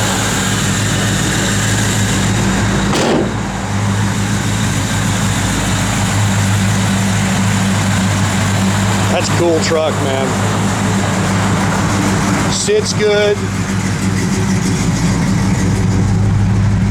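A 1955 Ford F100 pickup's small 3-3 engine idles steadily with a constant low hum throughout, while someone speaks briefly over it and a few short clicks and knocks break in.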